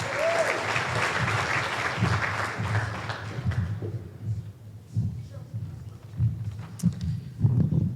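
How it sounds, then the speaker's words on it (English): A dinner audience at the Warren County Lincoln Reagan Dinner bursts into loud, dense applause that tapers off after a few seconds, followed by a speaker's voice over a quieter room. "Everyone, a round of applause for Mehek for coming tonight."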